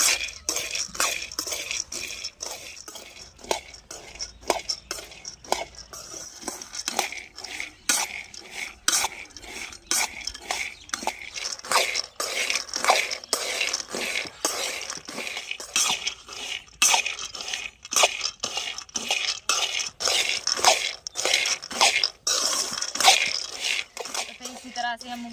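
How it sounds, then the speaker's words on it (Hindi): Peanuts are dry-roasted in a kadhai while being stirred, producing a steady stream of scraping, rattling clinks as the nuts tumble against the metal, close and continuous with irregular bursts. "इसी तरह से हम मूंगफली को भून लेते हैं"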